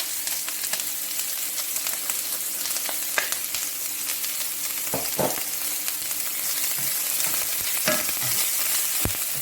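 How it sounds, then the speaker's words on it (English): Minced garlic and onion sautéing in a pot for Trinidadian smoked herring and tomatoes, a steady loud crackling sizzle with a few scattered spoon knocks and stirs. "allow that to saute in the pot and get the flavor of the garlic and the onion"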